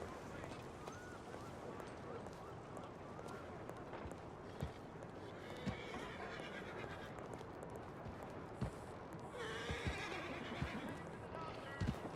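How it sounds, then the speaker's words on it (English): A horse whinnies and hooves clip-clop in a Red Dead western game setting in Stillwater, fairly faint under a busy ambient background with occasional knocks and a louder neigh near the end. "That's Moonshine's horse."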